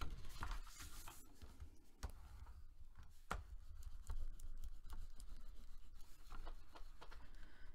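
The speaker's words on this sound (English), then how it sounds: "I'm going to open it up and burnish it some more" Paper on a handmade wallet mini album being burnished flat by hand, giving a steady close rubbing and patting texture with a few sharp scratchy strokes, no talking.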